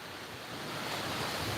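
Ocean waves on the beach at Khanom, Nakhon Si Thammarat, a steady broad wash of surf mixed with some wind noise, swelling slightly toward the end with no voices.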